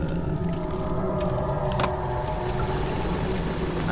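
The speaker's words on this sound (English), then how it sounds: "We have to turn the wheels there as well." Metal valve wheels being turned inside the dark castle of Amnesia: The Dark Descent, a steady mechanical grinding and creaking hum with a brief clank partway through, no voices.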